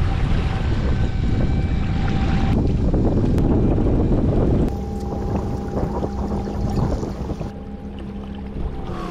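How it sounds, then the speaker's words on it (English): A bass fishing boat tosses on big waves in the California Delta while strong wind batters the microphone in a loud, continuous roar, easing slightly partway through. "These waves are getting big."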